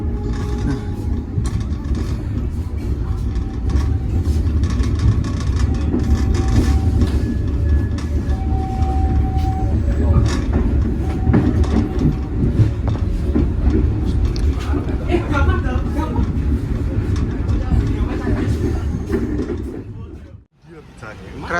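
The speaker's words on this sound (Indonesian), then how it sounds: "Kereta api Jenggala tiba di stasiun di Gedangan sekitar pukul 15:42" Jenggala passenger train in Indonesia rolling steadily on rails, a loud continuous low rumble with mechanical rattle and occasional squeals, with talk faintly underneath and a brief dip near the end.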